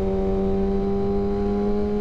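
Kawasaki ZX6R motorcycle engine held at high revs, a steady loud droning whine with strong sustained harmonics, no talk.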